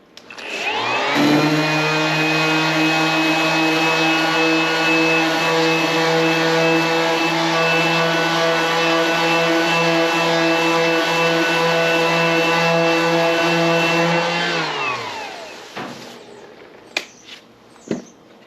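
A dual-action sander runs against rusted, painted metal, a loud steady high-pitched whine lasting about fourteen seconds before spinning down, followed by a few sharp clicks.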